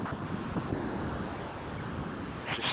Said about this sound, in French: il y a un phénomène de vent assez fort